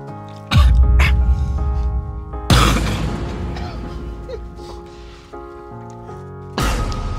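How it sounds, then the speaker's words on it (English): Someone coughs in sharp, harsh bursts after drinking hot sauce, with three loud fits spread across several seconds over a steady music bed and low background sound. "That was that hot sauce diesel cough."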